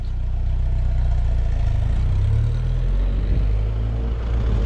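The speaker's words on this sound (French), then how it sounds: "Fabrice est reparti avec la Lotus" A Lotus car pulls away, its engine a steady low rumble with mild revving and clatter, loud and close throughout with no talk.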